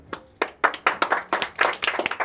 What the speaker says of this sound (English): a big hand for Scott